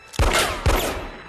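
Two loud, close gunshots ring out in a tense film scene, each a sharp blast followed by a long reverberant tail, about half a second apart.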